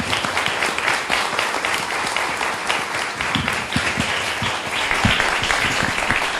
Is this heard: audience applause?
yes